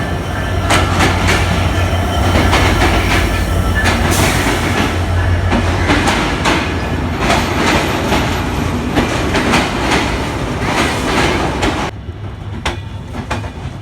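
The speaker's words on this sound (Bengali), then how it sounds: "আমাদের ট্রেনটি এখন ছেড়ে যাচ্ছে জয়পুরহাট রেলওয়ে স্টেশন" Train no. 806 pulls out of Joypurhat railway station with loud, close rumbling and a rapid clickety-clack of wheels over rail joints that continues steadily before the sound drops near the end.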